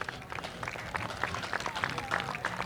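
Crowd at a speedway applauding military veterans, a moderate burst of scattered clapping and cheers mixed with a voice talking over it.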